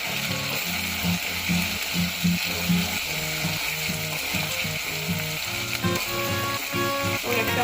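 Green chilies dropped into a hot pan of home-style chicken curry sizzle and fry loudly and steadily, with stirring scrapes and clinks of a utensil against the pan running throughout.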